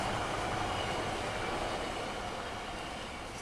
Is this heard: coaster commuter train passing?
yes